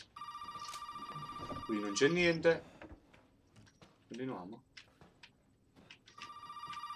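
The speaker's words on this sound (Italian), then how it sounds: "Ok, telefono, telefono." An old-style telephone bell rings in bursts in Resident Evil 7, starting and stopping around someone talking in Italian and a few clunking handling noises.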